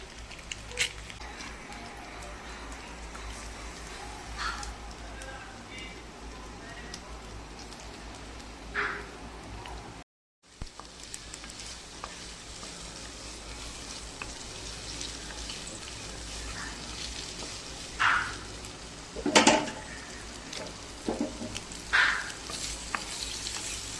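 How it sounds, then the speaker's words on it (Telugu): Eggs frying in oil seasoned with turmeric, salt and chili give a steady, moderate sizzle with scattered crackles and a few louder pops near the end, broken by a brief silent gap partway through. "ఎగ్స్ని అయితే దాంట్లో వేసుకొని గోల్డెన్ బ్రౌన్ కలర్ వచ్చేంత వరకు మంచిగా ఫ్రై చేసుకోవాలి"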